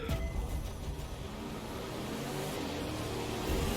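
Engine of an old Impala car racing in The Crew 2, a steady loud roaring drone with road rumble, continuous throughout.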